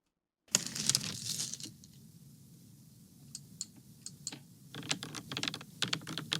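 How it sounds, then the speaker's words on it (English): Clacky keystrokes on a typewriter-style mechanical keyboard, a quick burst of typing, a lull of scattered taps, then rapid typing again, close up. "Let me see the typewriter keyboard. Is there a video of it?"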